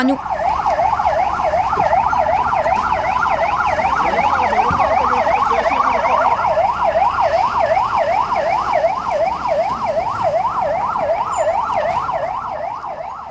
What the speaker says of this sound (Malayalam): ഫയർഫോഴ്സും പോലീസും റോഡിൽ സൈറൻ മുഴക്കി റൂട്ട് മാർച്ച് നടത്തി